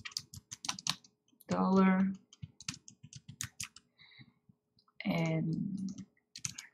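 Computer keyboard typing and mouse clicking, a sparse run of quick, light key taps and clicks close by, broken by two stretches of a person talking.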